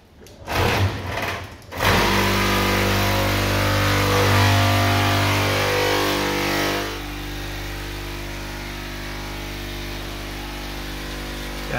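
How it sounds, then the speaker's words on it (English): A loud, continuous mechanical drone with steady low humming tones from a homemade vibrating screen classifier shaking gold-bearing pay dirt of sand and rocks, easing slightly in level partway through. "That noise you can hear is the vibrator vibrating all the sand and rocks down."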